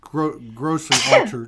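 One abrupt, explosive sneeze bursts out in the middle of someone's speech, close and loud, with talking on either side of it.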